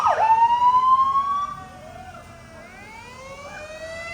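A loud, close fire engine siren wails with rising and falling tones at a falling leaf festival in Tumut, Australia, then fades into a weaker, more distant wail over engine rumble.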